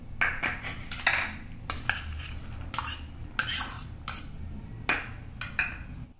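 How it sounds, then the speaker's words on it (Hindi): Chopped vegetables for a poha uttapam topping are mixed in a bowl with a spoon, giving close, crisp clinks and scrapes in an uneven rhythm, with no talk. "सारी वेजिस को मिक्स करना है।"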